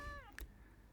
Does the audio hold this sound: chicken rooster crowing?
no